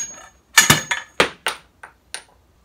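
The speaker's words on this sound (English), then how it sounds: "if I were to hit this with a hammer of some sort, I think you could push it through." A hammer strikes a Honda Fit lower control arm ball joint with about seven sharp metallic blows, close and loud, spaced irregularly with a bright ringing tone and no talk.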